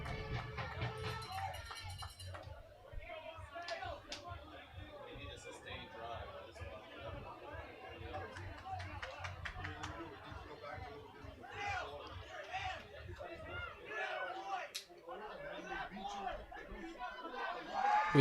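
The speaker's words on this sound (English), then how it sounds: "the Servite Friars fans are making plenty of noise." Servite Friars football fans at a varsity game against NDSN make steady, dense crowd noise of chatter and shouting, with cowbells and chants mixed into a continuous roar and voices talking throughout.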